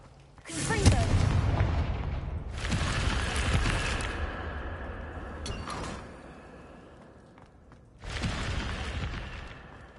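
Confringo spell explosions in the video game Hogwarts Legacy: several loud, broad blasts with rumbling tails, one at the start, a longer one midway and another near the end, with quieter game noise between.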